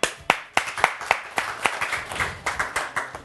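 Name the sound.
audience applauding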